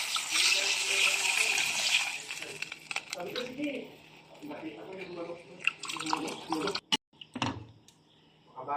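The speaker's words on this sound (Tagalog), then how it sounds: "Lagyan na natin ng tubig." Water poured from a tap into a cooking pot for chicken tinola soup, a bright gushing splash for about two seconds up close, followed by clinks of pots and utensils and kitchen handling noises.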